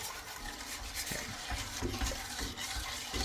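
A strawberry mixture stirred in a pot with a spatula, producing close, wet scraping and sloshing strokes with soft knocks against the pot sides.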